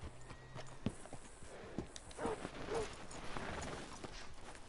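Horse hooves clop in Red Dead Redemption 2 in an uneven walking rhythm, moderately close, over a low background hum, with a few scattered knocks and shuffles.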